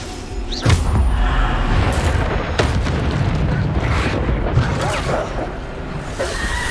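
Bombarda explosion spells going off in Hogwarts Legacy, a series of loud booming blasts with whooshing bursts over a continuous rumbling battle din, close and dense, with no speech.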